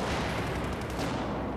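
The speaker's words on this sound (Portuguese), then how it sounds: "Os tiros não pegam, mano" Battlefield 4 gunfire in a continuous dense rattle of shots, loud and unbroken throughout with no pauses between bursts.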